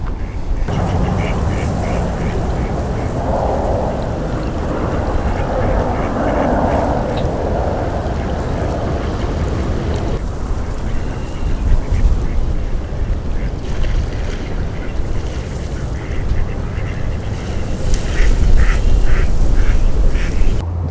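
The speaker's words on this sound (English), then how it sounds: "I think my wife sees some ducks." Ducks quack beside the Rio Grande on a windy day, repeated calls rising over constant wind buffeting and rushing noise, with a few louder bursts of quacking near the end.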